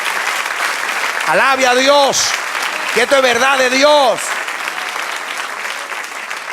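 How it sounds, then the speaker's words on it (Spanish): A church congregation breaks into loud, sustained applause that fills the room while someone speaks over it. "Sí, aplauda, aplauda, aplauda."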